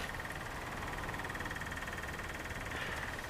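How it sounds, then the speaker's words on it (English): The fuel pump of a Weasel vehicle that won't start, running as a steady close mechanical whir and faint buzzing hum with an even high whine, continuous and unchanging. "I got the fuel pump cranking away on the frame"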